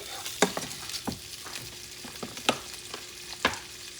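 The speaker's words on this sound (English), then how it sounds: "But you want to sear this a little bit first." Shrimp and onion sear in a hot pan for a shrimp dip, a steady sizzle broken by several sharp utensil scrapes and taps as the food is stirred, close and fairly loud.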